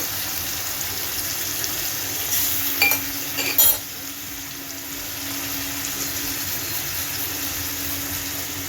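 Tomato goes into a pan with green chili paste for a bottle gourd and green jackfruit mash, then gets stirred: a steady soft sizzle with a brief cluster of metallic clinks and scrapes midway, no talking.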